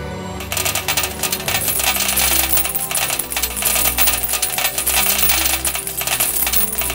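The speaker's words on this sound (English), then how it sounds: "it started pouring gold coins from the heavens" A dense, continuous shower of clinking coins pours down loudly, metallic jingling filling the whole stretch without pause.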